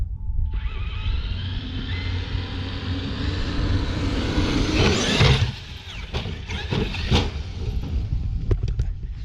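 A Traxxas X-Maxx RC truck, driven at the park below full throttle, gives a loud, sustained electric whine and roar that builds, then breaks off into scattered rattles and clicks.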